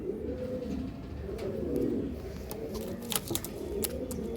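Mature purebred pigeons offered for sale coo in low, throaty rolling murmurs, with overlapping birds and a few faint higher chirps in the background.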